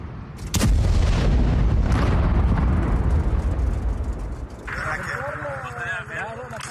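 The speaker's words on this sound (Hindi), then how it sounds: "इजराइल ने इस पूरे के पूरे लॉन्चिंग पैड को ही उड़ा दिया है ताजा हमलों में" An explosion hits a Hezbollah rocket launch pad: a sudden loud boom breaks into a long, heavy rumble, and then a voice talks over the fading roar.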